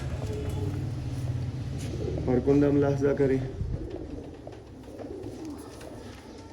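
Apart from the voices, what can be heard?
pigeon cooing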